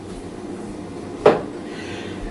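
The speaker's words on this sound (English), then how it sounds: "I'm going to use this measuring cup to put it to the side" A measuring cup is set down on a kitchen counter, giving a single brief hard clunk against a quiet room background.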